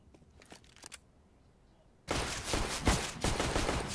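Rapid Glock pistol fire in a CS:GO match on the Dust map erupts after a quiet lull, a dense burst of close, loud shots that keeps going to the end.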